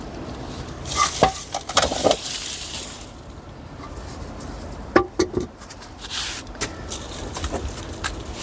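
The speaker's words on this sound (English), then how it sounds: "I'm gonna take the plant out of its pot. Try to do it gently, not to break it." A potted plant is eased gently out of its container during late-spring repotting, with close, irregular bursts of scraping and rustling soil and pot handling and no speech.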